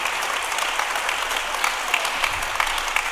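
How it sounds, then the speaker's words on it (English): An audience at a presidential address gives a round of applause, a dense, steady clapping from a crowd heard close for a few seconds. "Let's give Stuart another round of applause."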